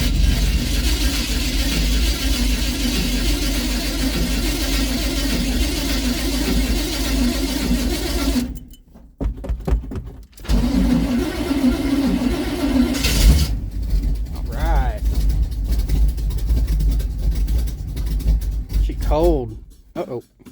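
Hot rod engine cold starting: steady loud cranking and running drone, a brief cut-out, then the engine catches again with rough revving, with a voice speaking briefly near the end.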